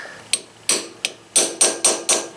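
Hammer blows drive a chisel against a motorcycle crankshaft oil seal on a Honda Rebel 250, about seven sharp metallic strikes spaced irregularly, close and loud with short ringing decay and no talking.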